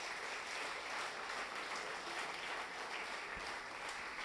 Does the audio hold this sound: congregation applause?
yes